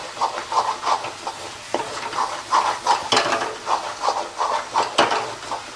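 Chicken stirred through frying masala in a pan, a steady hiss of sizzling under repeated scraping stirs and occasional clacks of the spoon, close and moderately loud.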